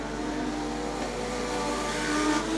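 Legend Cars race car engines droning steadily at Archerfield Speedway, a continuous moderately distant roar that swells slightly toward the end, with no voices.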